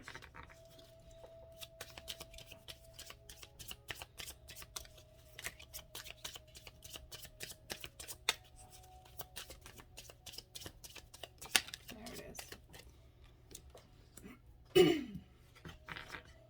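Tarot cards riffled and shuffled close up in a quiet room, a long run of quick crisp flicks and snaps with a few louder slaps near the end.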